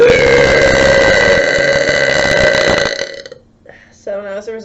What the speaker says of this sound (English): I am the superior burper here